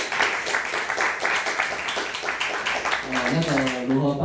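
An audience at a talk event claps for a student speaker, a lively patter of many hands that fades as a voice begins speaking at the end.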